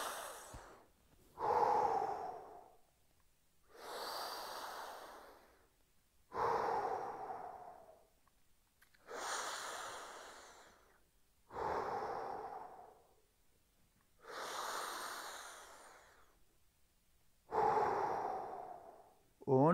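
Slow, deep breaths during a shoulder exercise against a wall, eight even inhale and exhale cycles a couple of seconds apart, close and fairly quiet, with no talking between them.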